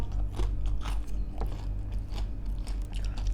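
Someone bites and chews a crispy snack up close, producing repeated crunches over a low steady background hum, with no one talking.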